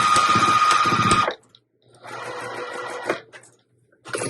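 A sewing machine stitches across fabric in two bursts of rapid, even mechanical whirring separated by brief pauses, then starts up again at the end.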